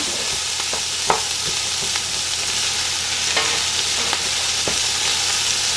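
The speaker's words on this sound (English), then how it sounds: "We want to let this saute for about 2 minutes so we can get out all of those flavors from the fennel and garlic" Fennel, garlic and crushed pepper sauté over low heat in a pan, giving a steady soft sizzle with a few light clicks and scrapes of stirring scattered throughout.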